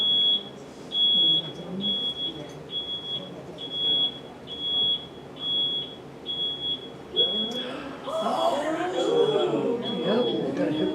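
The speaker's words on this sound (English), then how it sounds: "Backup alarm going." A high-pitched vehicle backup alarm beeps steadily at regular intervals during a safety meeting, with people talking underneath and louder rumbling, chattering noise toward the end.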